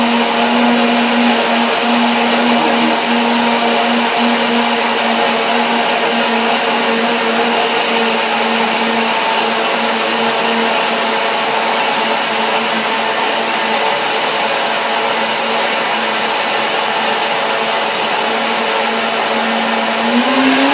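Countertop blender whirring steadily at high speed while blending kale chip dressing with water and chia seeds, a loud continuous motor whine held for about twenty seconds at night, with no talking over it.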